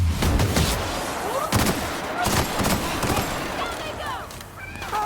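A neutron ray gun fires in The Outer Worlds, giving several sharp energy bursts mixed with rising zaps and chirps, loud and close, with voices or game sounds running underneath.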